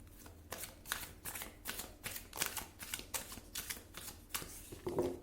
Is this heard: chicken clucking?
no